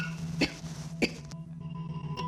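Lingering cough from COVID-19 after-effects, heard as a few separate dry coughs at close range spaced across a couple of seconds, with a faint household hum underneath.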